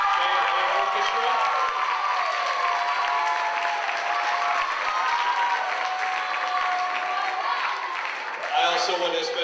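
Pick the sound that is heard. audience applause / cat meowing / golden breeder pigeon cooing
audience applause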